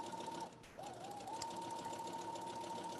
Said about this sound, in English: So I'm ready to sew.